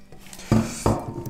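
Cherries mixed with thickening granules in a pot, two sharp metallic clinks and scrapes of a spoon against the pot over a quiet background.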